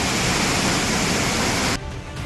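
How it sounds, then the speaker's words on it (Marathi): The flooded Beas River in Kullu, Himachal Pradesh, rushes with a loud, dense roar that cuts off abruptly near the end, with no voices. "हिमाचल प्रदेशच्या कुल्लूत बियास नदीला मोठा पूर आलाय।"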